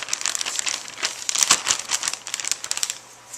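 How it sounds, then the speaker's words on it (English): Asparagus is slipped into a Ziploc bag, giving a close run of rapid plastic crinkles and rustles, busy and irregular for a few seconds before tapering off. "you put them all in the Ziploc bag"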